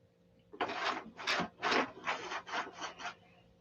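Sanding balsa model airplane wing flaps by hand, seven rasping strokes in quick rhythm, close and fairly soft, with a faint steady hum behind.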